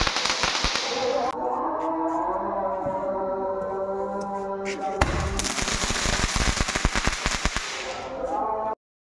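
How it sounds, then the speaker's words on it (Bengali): Firecrackers burst at home during a festival evening, a dense run of sharp close pops and cracks over a hissing whistle, with voices talking loudly in the background throughout. "বাড়িতে বম ফুটানো চলছে"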